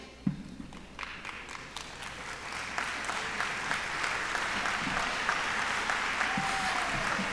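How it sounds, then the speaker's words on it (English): An audience at a Juneteenth program honoring Opal Lee keeps clapping for standing host-committee women, sustained applause that swells from scattered claps into a full, even roar. "keep giving them a round of applause"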